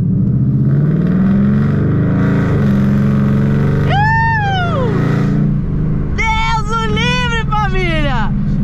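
Ford Mustang engine revving hard while taking a corner, a loud, sustained roar with rising and falling pitch sweeps, partly under someone talking.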